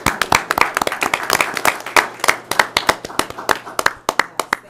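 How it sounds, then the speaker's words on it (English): A modest audience at a school district board meeting claps in a round of applause, with distinct, closely spaced individual hand claps ringing out crisply and fairly near, continuing steadily for several seconds. "I'd just like to give a round of applause to the team"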